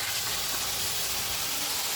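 Pumpkin is frying in a little oil in a pan for a pork and pumpkin dish, producing a steady, close, even sizzle with no pauses.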